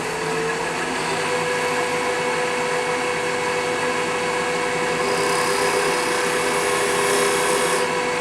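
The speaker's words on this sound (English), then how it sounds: "And we do that with a regular drill bit." A regular drill bit bores a 1/4 inch hole through a wooden peppermill blank, a steady, loud whirring and grinding drone that runs continuously, with the pitch staying constant throughout.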